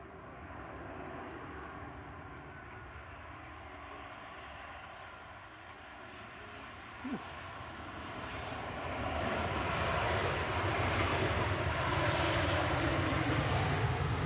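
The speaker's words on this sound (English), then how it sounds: "It's a 13-year-old 737-800 SPRNC." A 13-year-old Boeing 737-800 airliner at Manchester Airport roars in the distance with a broad jet rumble and hiss, which swells and grows louder toward the end, with no speech over it.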